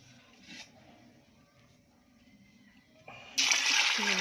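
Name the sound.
water poured into pressure cooker with black-eyed beans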